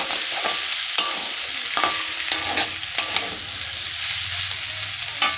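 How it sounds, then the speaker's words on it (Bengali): Potato, bitter gourd and pumpkin greens frying in a pan in a home kitchen, a loud continuous sizzle with regular scraping and tapping stirs. "এইখানে আলু করলা আর দেখো কুমড়ো শাকের ভাজা হচ্ছে"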